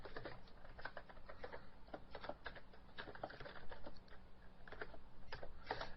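Rapid, uneven clatter of keys on a computer keyboard while C++ code is typed, a steady stream of close, light clicks with no voices.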